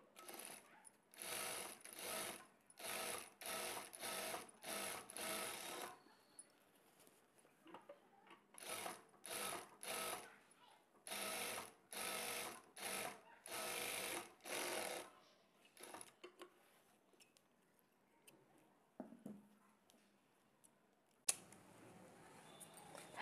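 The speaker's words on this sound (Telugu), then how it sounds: "రెండు హ్యాండ్స్ కూడా ఈ విధంగా స్టిచ్ చేసుకున్న తర్వాత 1/2 ఇంచ్ మార్జిన్తో హ్యాండ్కి రెండవ స్టిచ్ని వేసుకోవాలి" Sewing machine stitching a blouse sleeve, running in repeated short bursts with brief pauses between, then stopping, followed by faint handling noises of fabric and scissors.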